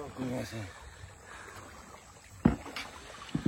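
A river boat is pushed across shallow low water with a pole while fishing, giving soft watery sloshing, a faint voice early on, then two sharp knocking splashes close by near the end.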